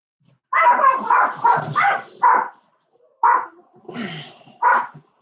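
Dogs barking close by in a rapid volley of loud barks, a short pause, then a few more barks and yelps, all without any talking.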